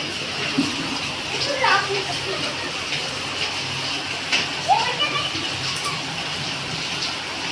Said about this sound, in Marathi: हे बघा बाहेर पाऊस पडतो